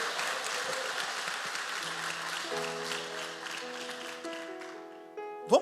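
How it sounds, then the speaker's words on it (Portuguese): A church congregation claps in a sustained, fairly soft round of applause that fades toward the end, with a sustained organ or keyboard chord rising under it. "Dê uma salva de palmas ao Senhor."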